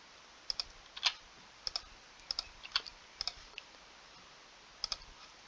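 Keys click on a computer keyboard as values are typed in, in short, light, scattered bursts and single taps, close by in a quiet room.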